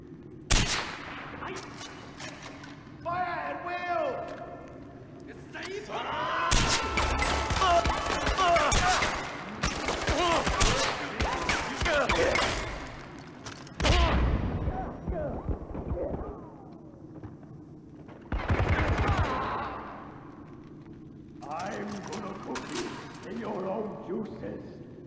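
Gunfire erupts in Far Cry 4 in loud broadband bursts, with several heavy volleys and sustained shooting spread across the stretch, while voices talk between and over the shots.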